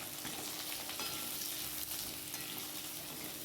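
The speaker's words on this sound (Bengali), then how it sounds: "এর মধ্যে কুচানো পেঁয়াজ দিয়ে দিলাম।" Chopped onion hits potatoes already browned in a pan and fries with a steady, hissing sizzle and a faint stir, even and uninterrupted at low volume.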